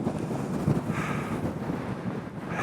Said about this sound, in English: It's windy, it's cloudy.